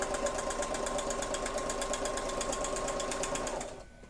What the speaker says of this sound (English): Just sew around the whole part. That'll give it strength